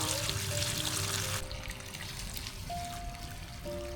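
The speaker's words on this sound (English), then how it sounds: "I started watering the vegetables, one garden bed at a time" Water poured and trickling onto vegetables in a garden bed at sunset, a steady splashing stream that is loud at first, then softer and continuous, with faint tonal birdsong or insect calls in the background.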